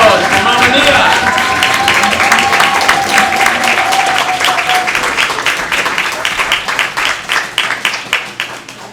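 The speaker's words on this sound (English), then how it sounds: "All right, big round of applause for Mama Nia." An audience at a Kwanzaa Imani Night program breaks into sustained applause and clapping for an honoree, a dense wash of hands that gradually thins and becomes more scattered toward the end, with a brief voice early on.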